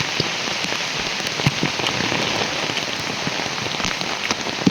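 Steady rain pours down outdoors, a dense, even hiss of countless drops striking surfaces, with scattered louder individual drips and no voices throughout.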